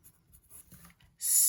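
Grey lead pencil writing on paper, faint scratchy strokes in short bursts, close and quiet, ending in a louder hiss.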